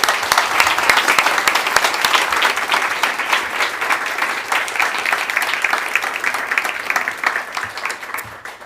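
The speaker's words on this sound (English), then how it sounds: "I just think we give Jørgen a warm applause for thanking him" A room full of people gives a warm, sustained round of applause for a speaker at the Nobel Peace Center, dense and loud throughout before tapering at the end.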